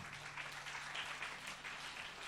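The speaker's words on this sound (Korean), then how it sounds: "박수를 치고는 세게 치시기 바랍니다." A church youth camp congregation in Korea claps together, a steady, fairly even wash of many hands at moderate distance with faint voices mixed in.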